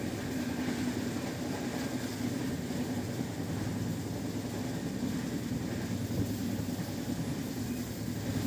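The 12863 Howrah SMVT Bengaluru Express runs past Chilka lake after leaving Balugaon station, giving a steady, loud rumble and rattle of moving coaches that holds without a break.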